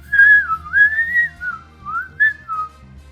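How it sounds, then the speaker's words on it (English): A single person whistles loudly and close up, a wavering, sliding melodic line in several phrases with short breaks between them, alone without talk. "Just really loud whistling."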